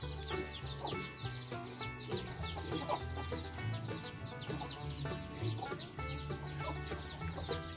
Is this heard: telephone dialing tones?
no